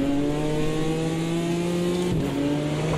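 A BMW M4 GT4 race car engine in Automobilista 2 holds a steady high drone at sustained revs. A brief gearshift blip breaks the tone before it settles back into a constant loud whine.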